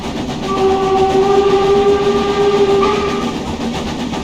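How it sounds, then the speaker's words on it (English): A steam locomotive whistle on the Brockenbahn Wernigerode to Brocken route in Train Simulator Classic, one loud sustained tonal blast of about two and a half seconds over rolling train noise, with no voices. "There's also no steam from the whistle at all."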